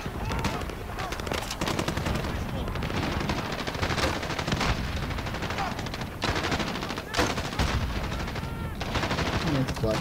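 Rapid automatic gunfire rattles almost nonstop in Call of Duty: Modern Warfare, loud bursts of shots layered over one another with a few heavier cracks, while a player talks underneath.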